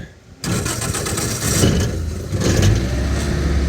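A 1946 Willys Jeep with electronic ignition cranks and catches almost at once, then settles into a loud, rough idle with a rising rev partway through, close up.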